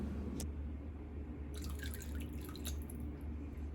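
Water is poured into pie crust dough, giving a soft trickling and splashing that starts after a single drip, quiet and close, with no talking.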